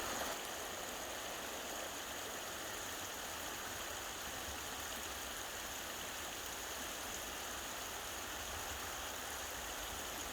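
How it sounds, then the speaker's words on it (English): A brook of running water under a blue sky, a steady, even rushing and babbling that continues unbroken and fairly close throughout. "brook running water."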